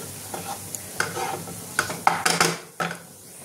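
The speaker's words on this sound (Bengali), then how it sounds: "এটা আমি ভালো করে মিশিয়ে নেব" Stuffed karela filling mixed with besan and a little water, stirred in a pan with scattered scraping and clinking strokes over a soft sizzle, close and moderately loud, no talking.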